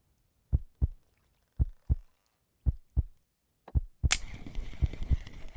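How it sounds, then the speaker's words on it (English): Heartbeat effect in a fishing video game on the ocean, with loud paired thumps repeating in a steady lub-dub rhythm four times, then a burst of splashing or crashing noise with continued beats underneath. "Y'all hear that heart beating?"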